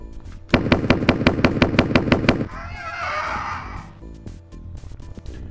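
Rapid gunfire in the retro shooter Blake Stone: Aliens of Gold, a steady run of about a dozen evenly spaced loud shots followed by a rising electronic sweep.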